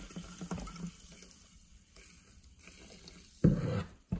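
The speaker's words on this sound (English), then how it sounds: "Let's pour some water in." Mountain Valley sparkling spring water poured into a container, a loud splashing burst near the end after quiet handling noises.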